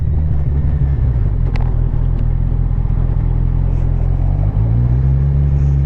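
A Kawasaki Ninja 1000 SX motorcycle engine drones loudly and steadily while riding, a deep constant rumble with a slight pitch shift near the end, wind noise over it.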